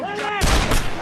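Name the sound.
gunshot from a handgun in a film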